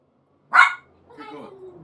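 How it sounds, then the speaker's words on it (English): Coco, a pet dog, lets out one sharp bark, followed by a softer whining yip, heard close and clear against a quiet background with no talk over it. "That is my dog barking in the background."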